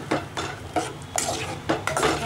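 A spoon stirs vermicelli into boiling milk in a pot for semiya sago payasam, giving repeated scraping and clinking strokes at a steady rhythm, close and moderately loud, with no talking.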